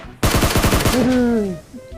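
A rapid burst of about eight sharp gunshots in quick succession in PUBG Mobile, loud and close, followed by a fading ringing tone.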